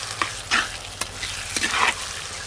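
Spices for a country chicken curry sizzle in a pan on a clay stove, with close, repeated scraping strokes of a spoon stirring through the hot oil over a steady frying hiss.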